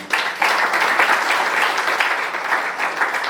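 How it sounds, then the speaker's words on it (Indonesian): Audience applause at a church seminar hall, dense steady clapping from a crowd that carries on at an even loudness through the whole stretch, with no voices over it. "Saya pikir kita beri tepuk tangan untuk Tuhan melalui hamba-Nya."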